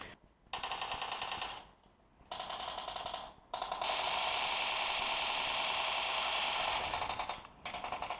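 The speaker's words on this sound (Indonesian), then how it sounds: "Tembak apaan itu?" Bursts of rapid automatic gunfire in a mobile shooter game played on a Sony Xperia 5 phone, dense and loud, in long sustained volleys separated by short silent gaps.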